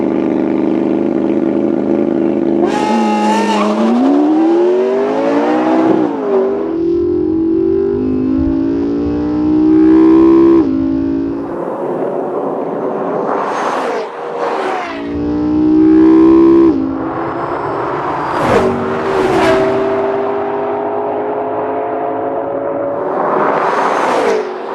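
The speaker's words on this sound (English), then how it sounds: "Off the line, you'll see both cars get moving with just the tiniest bit of wheel spin" A McLaren and a Lexus LFA launch into a quarter-mile drag race with loud, high-pitched engine howls that climb sharply through repeated gear changes. Both engines scream close by with no talk over them.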